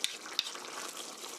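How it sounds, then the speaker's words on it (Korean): Parmesan cheese stirred into a sauce in a pan for a chicken rice bowl, a soft continuous sizzle and scraping with two brief sharp clinks near the start, no talking. "파마산 치즈 1 테이블스푼 이렇게 솔솔 뿌려가면서 섞어주세요"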